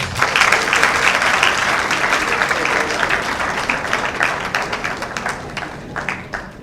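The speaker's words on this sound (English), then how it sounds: "Give yourself a round of applause." An audience at the Nile University Business Club Summit 2018 bursts into dense, sustained applause that slowly thins out toward the end.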